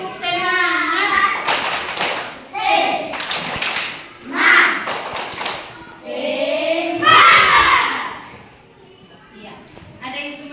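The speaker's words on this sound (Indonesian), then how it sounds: "Tepuk semangat dulu." Classroom children, standing after being roused, perform the rhythmic spirit clap, sharp bursts of group hand claps in patterned bursts alternating with children's chanting voices, all close and lively in the room.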